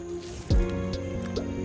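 Water drips onto a surface at a night campsite, one soft distinct drop standing out above a low steady hum, with no talk over it.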